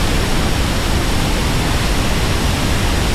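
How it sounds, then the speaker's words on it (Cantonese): A huge surge of water crashes over from a waterfall near Angel Falls in Venezuela, a loud, dense, unbroken roar of spray and rushing water close by, with no voices. "嗰個好大水冚過嚟"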